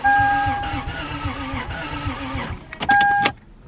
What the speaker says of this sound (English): the only thing happening right now is the starter's trying to start the car